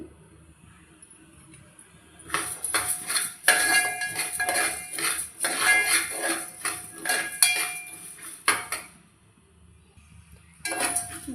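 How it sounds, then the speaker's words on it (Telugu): Coriander seeds dry-roasting over low heat in a hot pan, heard as bursts of metallic scraping and clinking as they are stirred, with quieter pauses between, close and fairly loud. "బగోని వేడైన తర్వాత ధనియాలు వేసి వేయించుకుందాం స్టవ్ సిమ్లో పెట్టి వేయించుకోండి"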